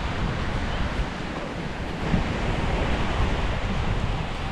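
Surf washing onto a sandy beach, with steady broadband rush of breaking waves close by and some wind noise buffeting the microphone throughout, no voices.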